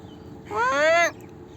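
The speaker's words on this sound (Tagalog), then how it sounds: "Ito yung mga alaga kong uwak dito sa Dubai" A single drawn-out crow caw, about half a second long, nasal and harmonic, over a low background hum, by a canal in Dubai.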